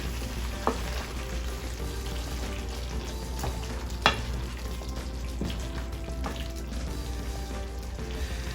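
Celery and lentils in a cooking pot, alongside sausages and peppers, sizzle steadily while a spoon stirs them, with a few sharp scrapes and knocks against the pot and no voices.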